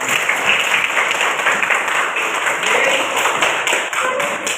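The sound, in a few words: class applauding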